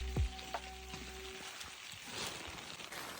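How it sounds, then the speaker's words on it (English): Rain falling steadily during a hike on the Inca Trail to Machu Picchu, a soft continuous patter and hiss of drops on gear and ground, with an early brief tonal hum fading out. "Today, we're hiking in the rain"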